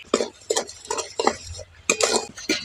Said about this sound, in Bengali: এই গুড়টা তো একটু শক্ত, তাই একটু জল দিয়ে প্রথমে একটু গলিয়ে নিতে হবে।